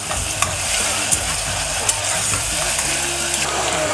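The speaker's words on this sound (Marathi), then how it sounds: "आता आपण याच्यामध्ये आलं लसूण पेस्ट ऍड करूया 2 चमचे। 1-2 मिनिटं छान परतून घेऊया।" Chopped onion with ginger garlic paste sizzles in a pan, with a spoon or spatula scraping and stirring and occasional sharp clinks against the metal, loud and close.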